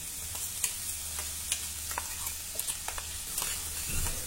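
Spiced paste of raw coriander, cumin, ginger, garlic and chili sizzling in about two tablespoons of hot oil in a kadhai for matar kachori filling, with steady frying hiss and intermittent scrapes of stirring, close and moderately loud.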